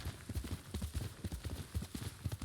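Horse hooves clip-clopping in the video game Ghost of Tsushima, a steady rhythmic trot of close, fairly quiet hoof falls continuing throughout with no talk over it.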